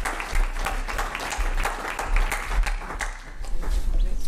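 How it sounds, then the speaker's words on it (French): Audience applause at the close of a conference, a steady wash of many hands clapping that swells and dips for a few seconds with no voices over it. "on les applaudit bien fort quand même."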